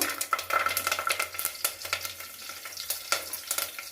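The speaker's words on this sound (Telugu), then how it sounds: "కరివేపాకు వేస్తున్నాను" Curry leaves crackle and spit in hot oil for a masala carrot pulao, a dense, busy sizzle with rapid popping throughout, close and fairly loud, with no voices.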